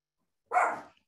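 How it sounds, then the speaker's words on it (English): A dog barks once indoors during an online talk, a single short bark after a moment of silence, close and fairly loud, with a faint yip trailing just after. "I'll try to talk over the barking."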